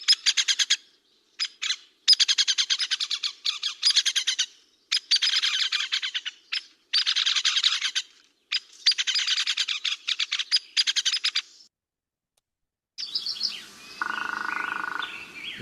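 A northern flicker woodpecker gives long runs of rapid, loud, repeated call notes in several bursts with short gaps, then a brief different sound closes the sequence.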